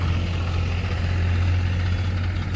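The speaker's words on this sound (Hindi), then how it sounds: "गाइस हमारा ट्रैक्टर लगने जा रहा है" A tractor engine idles steadily and loudly up close, a constant low droning rumble with broadband mechanical noise, unchanging throughout with no talk.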